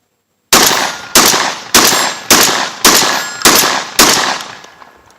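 A Mossberg 930 SPX semi-automatic shotgun fires Universal shells in seven loud, close blasts spaced roughly half a second apart, each with a sharp crack and brief ringing decay, with no talk.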